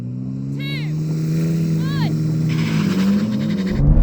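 A BMW M3, xDrive or rear-wheel-drive, revs hard at a drag race launch. The deep engine drone climbs steadily and grows louder toward the end, with brief high chirps and voices over it.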